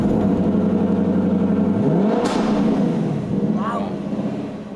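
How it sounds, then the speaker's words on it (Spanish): A car engine hums and revs up steadily at close range, with its pitch climbing and falling. The car is shown at a Hollywood-themed display as the one from the Pink Panther film. A brief whoosh passes partway through. "este es el coche que llevaba la Pantera Negra en la película de Pink Panther"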